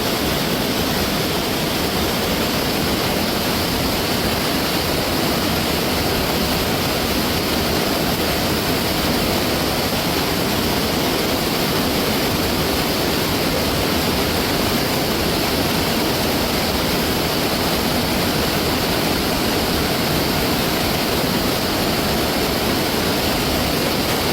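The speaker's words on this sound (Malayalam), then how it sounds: "വെള്ളം കൂടുന്നുണ്ട് അപ്പോൾ നമുക്ക് കുറച്ച് മേലോട്ട് കയറിക്കാം അല്ലേ" A steady, loud roar of a mountain flash flood's rising water fills the entire stretch without pause, broad and constant like a swollen torrent nearby.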